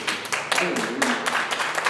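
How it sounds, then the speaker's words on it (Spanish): A church congregation claps in a quick, dense burst of applause close by, the sharp rhythmic claps filling the room alone. "Den un aplauso fuerte"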